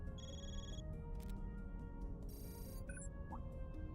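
Mobile phone ringing in the video game Trails Through Daybreak, a short repeating electronic ringtone with bright tonal beeps over a steady background music bed.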